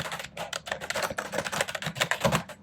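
Rapid, uneven clicking of keys on a computer keyboard during coding, a dense run of quiet close taps with no talking.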